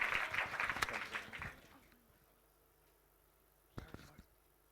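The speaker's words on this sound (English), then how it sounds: "Please give them a huge round of applause." A conference audience claps for a panel, a short burst of applause that fades away within two seconds, followed by quiet room tone and a couple of handling knocks.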